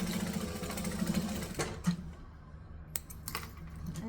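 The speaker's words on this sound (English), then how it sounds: "We're going to stitch and back stitch" A sewing machine runs a seam forward then reverses to back stitch, a steady rapid whirring stitch pattern up close, pausing briefly before a few separate clicks and mechanical taps.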